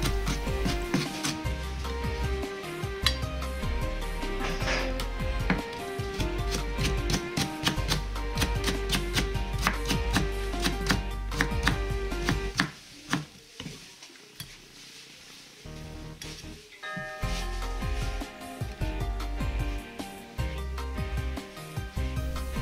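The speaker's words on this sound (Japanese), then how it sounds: "今回はメンマにするので全部スライスに切ります" A kitchen knife repeatedly slices through bamboo shoots on a board, a dense run of sharp, close, rhythmic cuts with a brief quieter pause midway and faint music underneath.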